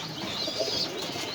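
Pigeons coo softly in a short, steady stretch, a low rolling call from birds close by with faint chirps in the background.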